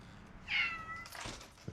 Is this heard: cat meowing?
yes